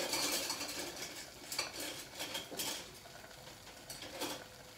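A spoon scrapes and stirs flour roasting in oil in a pot on the stove, a soft continuous scraping with faint sizzle, close and quiet, with no talking.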